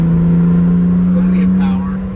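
A 1971 BMW 2800 CS engine pulling hard on a transmission kickdown, a loud steady low drone from inside the cabin that eases slightly at the end.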